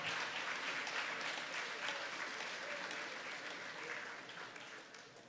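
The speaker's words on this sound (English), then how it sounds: "Give them another round of applause, ladies and gentlemen." An audience at a Gingerland Secondary School graduation ceremony gives a round of applause: a steady, fairly faint wash of many hands clapping that tapers slightly toward the end.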